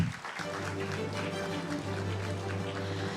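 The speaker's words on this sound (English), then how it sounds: "a big warm round of applause" Steady applause from a crowd at a startup competition event fills the clip, dense and continuous after a brief dip at the start.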